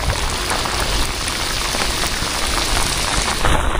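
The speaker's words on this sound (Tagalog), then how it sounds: "Literal na lakas na ulan oh." Heavy rain pours down steadily on a surface during a fishing and cooking outing, a dense, loud, continuous hiss of drops with no pauses.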